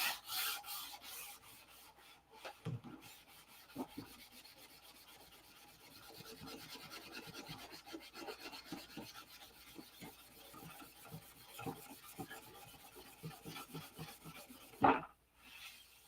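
Hand sanding on a P-47 model, a soft close rubbing and rasping texture that continues steadily with a few small knocks and a sharper bump near the end.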